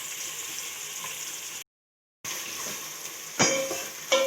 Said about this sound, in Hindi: आप देख रहे हैं हम प्याज फ्राई कर रहे हैं